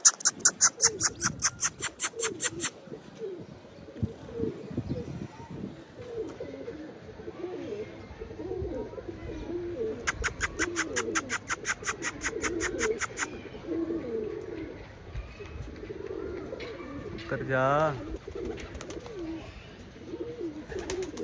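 Domestic pigeons coo in low, repeated murmurs throughout, close by, joined by two bursts of rapid, high chirping and a brief squeaky trill near the end; no one speaks.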